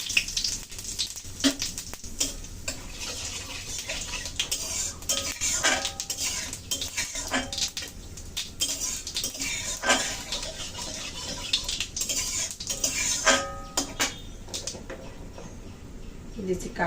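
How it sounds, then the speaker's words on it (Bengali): Dry red chillies and cumin crackle in hot oil for cabbage ghonto, with frequent metallic clinks of a spoon against the pan and stirring scrapes throughout, and a voice speaking over it. "আমি এখন ফোড়নে দিয়ে দিচ্ছি শুকনো লঙ্কা"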